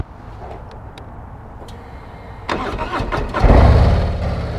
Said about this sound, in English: you can just fire up the new Harley touring models without the screen working